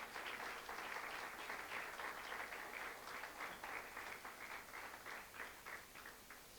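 Church congregation applauding during a Spanish-language service, a continuous wash of many hands clapping at moderate volume, holding steady for several seconds.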